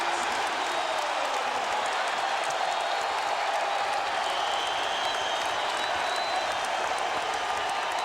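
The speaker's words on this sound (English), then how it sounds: "the crowd absolutely went crazy on this play by Lamar Smith" A packed basketball arena crowd at a Vanderbilt versus Tennessee college game roars and applauds in a steady, dense wall of noise that holds loud for the whole stretch.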